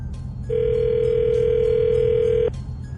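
Telephone call ringing out on a line, one steady two-second ring tone over background hiss, with no talk.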